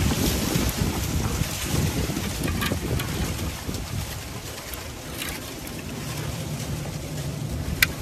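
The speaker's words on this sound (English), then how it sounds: "it's kind of windy" Steady wind buffeting the microphone outdoors, a continuous rumbling roar with gusts, no voices.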